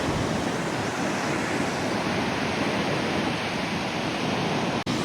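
Steady roar of Black Sea surf washing onto an icy winter shore at Odesa, continuous and close, with a constant hiss of breaking water and no voices.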